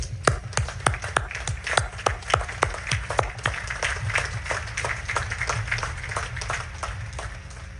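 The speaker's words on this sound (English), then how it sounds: "let's give them a third round of applause" Applause at a Naval Academy commencement: sharp, distinct close claps in a quick rhythm at first, thickening into a denser, softer patter of many hands that gradually fades.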